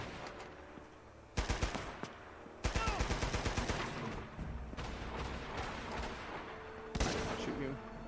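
Rapid automatic gunfire in Uncharted: Golden Abyss, loud bursts of closely spaced shots that start, pause and restart, with a final sharp burst near the end over a rumbling game backdrop.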